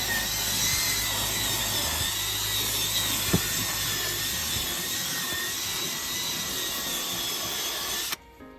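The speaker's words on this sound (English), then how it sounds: "The drill brush with my new Ryobi drill brush." A Ryobi cordless drill whirs steadily at close range for several seconds, spinning a brush that scrubs a Mercedes-Benz's carpet with a constant high buzz, then cuts off abruptly.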